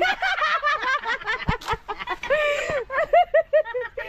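Close chickens cluck in quick, choppy bursts, with a few higher squawking calls mixed in.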